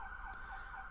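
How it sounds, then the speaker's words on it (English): A faint emergency siren wails steadily in the distance, its pitch gently rising and falling. "Sorry for the sirens in the background."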